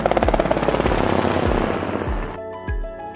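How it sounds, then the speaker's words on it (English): A helicopter's rotor beats in a fast, loud chopping rhythm of steady thumps that fade slightly. Near the end it gives way to a different tonal sound. "Helicopter."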